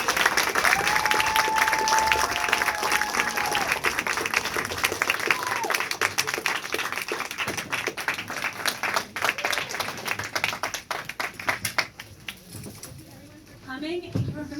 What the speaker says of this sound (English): Any final questions before we do a last round of applause?